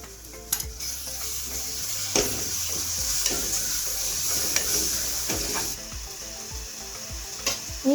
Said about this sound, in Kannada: ಈಗ ನಾನು ಮೊಸರು 2 ಚಮಚೆ ಹಾಕತ್ತೇನ್ರಿ.